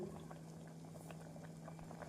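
Steady bubbling and gurgling of lentils boiling in a pot for sambar, soft popping over a low constant hum, close by and fairly quiet.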